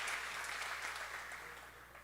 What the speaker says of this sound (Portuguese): uma salva de palmas pela vida do Samuel